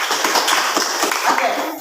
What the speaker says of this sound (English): Okay, give applause to this one.